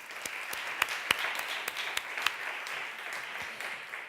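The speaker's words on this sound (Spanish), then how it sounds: "un aplauso grande y bienvenida." Audience applause welcoming a speaker at a gastronomy event, fairly faint and steady, with scattered sharper individual claps cutting through the patter.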